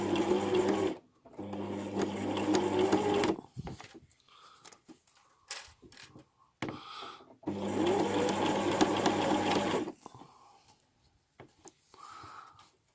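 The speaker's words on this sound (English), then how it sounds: "I'm sewing as close as possible I can get without being on the edge" A sewing machine stitches an invisible zipper close to the edge, running in two long steady bursts of fast stitching with a few short stop-start runs and quiet handling noises between, close and clear.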